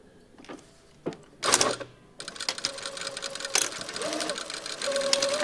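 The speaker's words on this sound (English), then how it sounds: "so I'm going to stitch at 1 centimeter, which is roughly here" A domestic sewing machine runs a stay stitch along a shirt cuff, with short bursts early on and then a steady whirring run that continues to the end, close and moderately loud.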